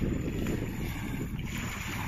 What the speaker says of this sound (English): the problem is now the wind's against us